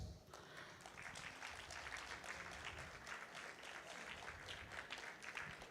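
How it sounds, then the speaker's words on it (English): Audience applause at a meditation summit, a steady, dense wash of clapping from a large crowd that holds at an even level for several seconds with no talk over it. "Big claps."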